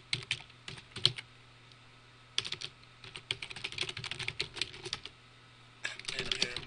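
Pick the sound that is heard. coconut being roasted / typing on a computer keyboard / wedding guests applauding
typing on a computer keyboard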